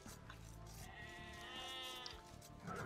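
Sheep bleating in a strategy video game, a wavering, drawn-out bleat heard faintly over busy game ambience and low rumbling noise, with no talking over it.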